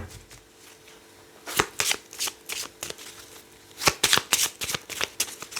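A deck of 32 playing cards is shuffled close by in quick riffling bursts separated by short pauses, with no one talking.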